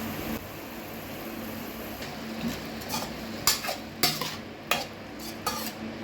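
Tomato is stirred into mutton frying in a pan for a garlic butter pepper mutton fry, with a soft sizzle under a series of sharp spatula scrapes and knocks that grow more frequent toward the end.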